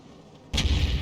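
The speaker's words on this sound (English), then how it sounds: "Oh, now there was a dual explosion up on the hill." In the World of Tanks video game, a sudden heavy blast of explosion or artillery fire bursts in after a quiet stretch and keeps roaring loudly to the end, with no voices.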